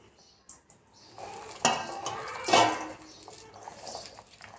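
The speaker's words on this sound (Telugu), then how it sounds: "ఒక పచ్చిమిర్చి, కొద్దిగా జీలకర్ర, ఇవన్నీ వేసేసి మిక్స్ చేసుకుందాము." Chopped onions, green chilli and cumin mixed in a bowl make a few sharp clinks and scraping rattles of a utensil against the dish, close by, with quieter gaps between.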